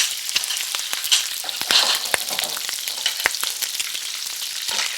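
Steak and potatoes frying in a pan, a loud close sizzle with sharp crackles and pops throughout.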